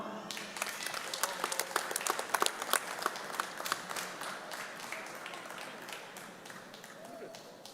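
Audience applause for graduates at a spring commencement ceremony, a dense wash of many hands clapping that peaks early and then thins gradually, with a voice briefly audible toward the end.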